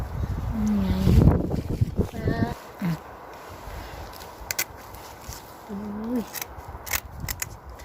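Scissors snip through fish during a large batch of fish preparation for fermented fish, giving crisp, close cutting crunches in short irregular bursts, with people talking and background outdoor noise.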